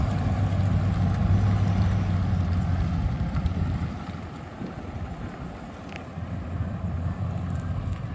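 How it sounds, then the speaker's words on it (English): A jet aircraft passes overhead above a garden with a steady, broad engine roar, loudest at the start and easing slightly as it moves off, heard alone outdoors. "We'll wait till the jet engine leaves here."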